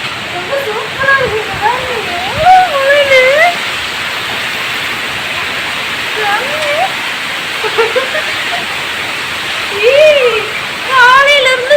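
Sudden heavy rain with strong gusting wind in Bengaluru sounds as a steady broadband wash, loud and continuous, with swells of wind; bird-like chirps and faint voices rise intermittently above it.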